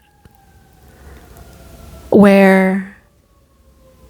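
A police siren wails briefly and loudly for under a second amid quiet room tone, with a short spoken word at its onset.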